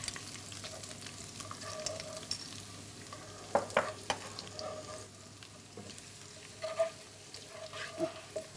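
Chopped ginger and garlic frying in hot oil, a quiet sizzle with a few spoon knocks and stirring scrapes scattered through, close and faint, with no speech.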